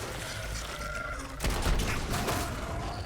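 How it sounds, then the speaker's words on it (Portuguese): A 12-gauge shotgun fires in the game Starfield: a single loud, booming blast with a rumbling tail over a steady bed of in-game background noise. "Um tiro de 12."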